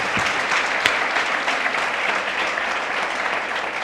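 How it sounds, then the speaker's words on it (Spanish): A church congregation claps for the Lord during a Spanish-language service, producing dense, steady, loud applause that fills the whole stretch with no break and no voices on top. "¿No le damos un aplauso al Señor, hermano lindo?"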